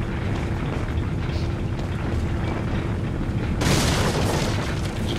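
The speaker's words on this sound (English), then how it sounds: "That explosion was not really cool." A dynamite charge blows apart a boulder in the video game Resident Evil 4, a deep booming blast that bursts into a broad loud rush of debris after a low steady rumble.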